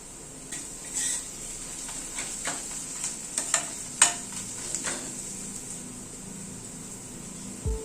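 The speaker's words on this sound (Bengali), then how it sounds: "আবার একটুখানি হালকা একটু নাড়াচাড়া করে নিচ্ছি।" Food with ground spice powders and salt gets stirred in a pan over a quiet, steady sizzle, with a scatter of light spatula scrapes and taps against the metal, close by and with no speech.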